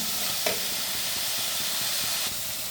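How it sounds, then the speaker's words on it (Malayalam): Onions sautéing in a pan for Kasaragod chicken curry, a steady close sizzle and hiss with soft stirring scrapes, continuous throughout with no talking. "ഉള്ളി ഇത്രയും വഴന്നാൽ മതി"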